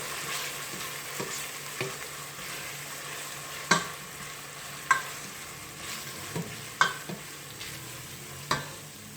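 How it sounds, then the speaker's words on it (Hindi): Ginger garlic paste fries lightly in a pan with a soft, quiet sizzle, broken by occasional clacks of a spoon stirring against the pan. "तो ये ऐड करके इसको भी थोड़ा सा फ्राई कर दूँ।"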